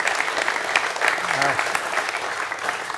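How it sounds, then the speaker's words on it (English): An audience at an evening stage event with James Randi applauds the assistants, brisk dense clapping throughout with a short vocal sound mixed in the middle. "Big round of applause for the assistants"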